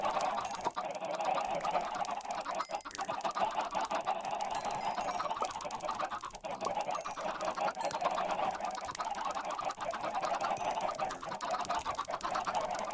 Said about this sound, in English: I hate that all the chickens follow me.